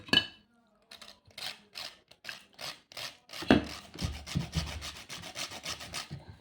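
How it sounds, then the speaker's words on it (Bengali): Khoya being rubbed against a grater by hand, a steady series of rhythmic scraping strokes, close and fairly clear, with short pauses between passes. "এবার এতে দেওয়া হবে খোয়া, হুম খোয়াকে গ্রেট করে।"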